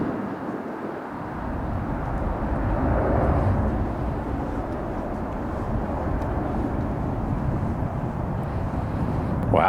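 An Airbus A380 rolls for takeoff on a windy afternoon at San Francisco airport, a heavy steady jet roar heard from a distance that builds and holds for nearly ten seconds, with wind rumble underneath.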